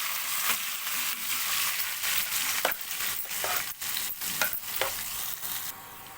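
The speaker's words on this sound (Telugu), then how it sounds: "కొంచెం కరివేపాకు వేసుకొని దీన్ని అయితే ఒకసారి కలుపుకుంటా వెల్లిపాయలు కలర్ చేంజ్ అయ్యే వరకు అయితే వేగనివ్వాలి" Garlic and curry leaves sizzle steadily in hot oil while being stirred in a pan, with a continuous crackling fry broken by repeated sharp scraping strokes of the spoon, close and fairly loud with no talk.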